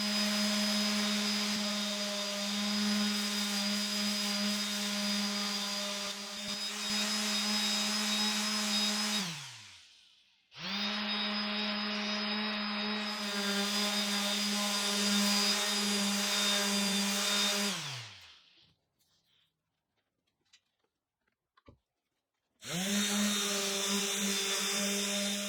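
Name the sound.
power sanding plywood desk bevels and rounded corners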